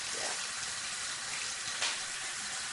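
Tap water running steadily into a sink while hands are washed for Islamic ablution, a soft, even hiss of flowing water with faint splashing, fairly quiet and without talk.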